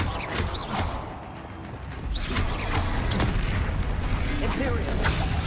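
Bombarda blasting spell explosions in the Hogwarts Legacy video game, with booming bursts and crackling impacts mixed under a player's shouted talk throughout.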